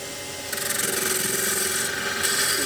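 A skew chisel cuts wood turning on a lathe while shaping a multi-axis candlestick holder, giving a loud continuous scraping, rasping hiss that starts abruptly and holds steady, with the lathe humming underneath.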